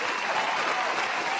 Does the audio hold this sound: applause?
yes